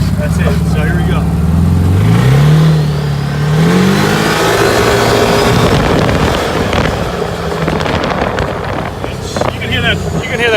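A 2015 CanAm Maverick XDS turbo UTV accelerating in low gear, its engine revving and climbing in pitch while the turbo spools up, loud and close with wind buffeting and a voice speaking over it.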